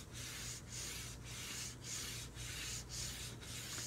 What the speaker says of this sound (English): So I'm going to sand with the grain.